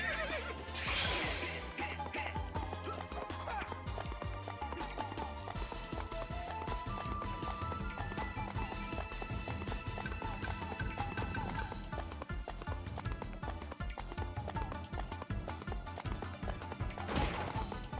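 Video game horses in Samurai Warriors 2 whinny loudly amid a dense, clattering battle din of crashes and thuds, with galloping hooves mixed into a continuous busy background.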